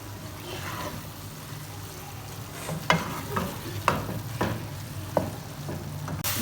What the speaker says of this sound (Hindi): मीडियम लो फ्लेम पर इसको हम 5 मिनट तक इसमें इसकी भुनाई करेंगे